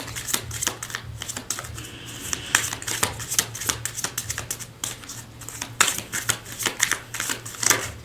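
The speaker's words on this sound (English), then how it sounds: "Cards have been shuffled." Continuous riffling and snapping of a card deck being shuffled, close and fairly loud, with repeated bursts of crisp flutters and a low hum underneath.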